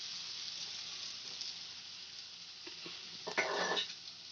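Fried potatoes and spices stirred dry in a hot frying pan for a black chickpea and potato dish, giving a steady soft sizzle that swells near the end with a brief burst of scraping and clatter.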